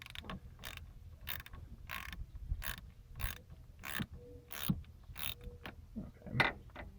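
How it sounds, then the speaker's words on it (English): A 10 mm socket wrench loosening the battery terminal nut on a Mazda Protege5, heard as close, repeated ratcheting clicks and creaks in an uneven rhythm, with no talk over it. "what you'll need is a 10 millimeter socket and a wrench, obviously, and you will just loosen it like so."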